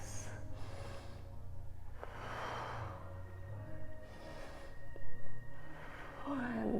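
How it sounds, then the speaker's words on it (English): Several slow, deep breaths during a yoga session, each a soft airy inhale or exhale spaced a second or two apart, faint and close against a quiet room hum. "And 2 more deep breaths."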